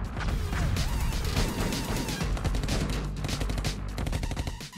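Rapid video game gunfire, a dense and loud fusillade of shots running without pause from start to finish.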